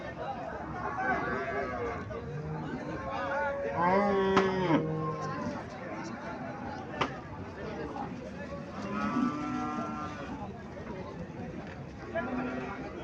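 Haryana breed cows mooing at a busy cattle market near a border, several low drawn-out moos rising above constant crowd chatter and people talking nearby.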